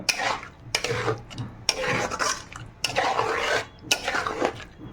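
Palm payesh with grated coconut, fried raisins and cashews being stirred in a pot, giving repeated scraping, rubbing strokes of a spoon against the metal in close, steady bursts with short pauses between them.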